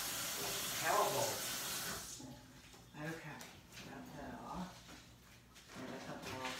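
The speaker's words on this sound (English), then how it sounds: "I have to rinse that jinky ginky off my hands" Tap water running over hands to rinse off varnish residue, a steady hissing stream for about two seconds, then quieter splashing and handling noises as a person talks.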